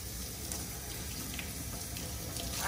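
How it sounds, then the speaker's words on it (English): A giant aquarium plant rinsed under running water: a steady, faint hiss of flowing water held at an even level for a few seconds. "We're just gonna give it a nice rinse, make sure we get everywhere."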